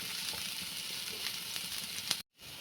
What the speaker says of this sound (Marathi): थोडंसं अगोदर कांदा भाजून घेऊया आपण